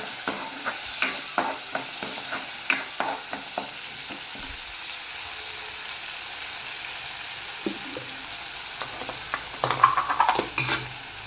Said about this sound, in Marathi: याच्यामध्ये आपण घालू हे वाटण आपण याला हलवून घेऊ